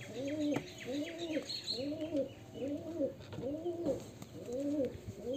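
A steady series of about six rolling coos from pet pigeons in a Murshidabad fancier's flock, evenly spaced and close by, with light chirps from small birds in the background.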